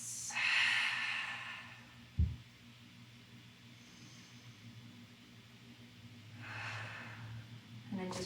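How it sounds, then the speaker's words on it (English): Deep breaths taken during a yoga session: two long, airy inhale-exhale sounds separated by a quiet pause, close to the microphone, with a brief thump between them and no speech. "Breathe. Big deep breaths."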